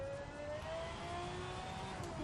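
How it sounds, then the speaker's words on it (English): A Pagani Zonda F engine in the racing game NFS Shift, driven solo at Brands Hatch, giving a steady sustained drone with a whining tone at constant speed, no voices. "this Zonda F sounds really good"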